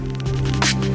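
A crackling sound effect in a song flickers as brief textured bursts and a short bright hiss over a sustained low hum and tonal bed, lasting about a second with no speech.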